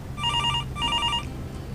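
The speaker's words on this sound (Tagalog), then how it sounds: "Aram ba nindo ang tanog kang telepono?" A telephone bell rings in two short bursts of bright, rapid trilling, each lasting about half a second with a brief gap between, close and clear with no talk.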